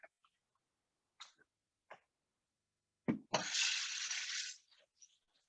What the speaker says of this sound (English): I'm gonna go fill up this pot with water.